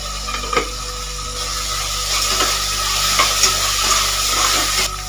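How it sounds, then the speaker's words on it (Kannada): Tomato with salt and turmeric frying in a pan for spinach palak pulao, stirred with a spoon: a steady close sizzle runs throughout, with scraping stir strokes and a couple of sharp knocks against the pan. "ಇವಾಗ ನಾನು ಟೊಮೆಟೊ ಹಾಕ್ಕೊಳ್ತಿದ್ದೀನಿ. ಇದಕ್ಕೆ ಸ್ವಲ್ಪ ಉಪ್ಪು ಹಾಕ್ತಾ ಇದ್ದೀನಿ, ಸ್ವಲ್ಪ ಅರಿಶಿನ ಪುಡಿ ಹಾಕ್ತಿದ್ದೀನಿ."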